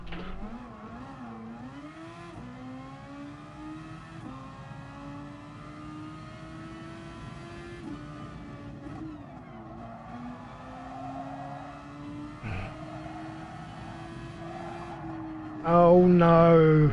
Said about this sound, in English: Always revving the car to the left.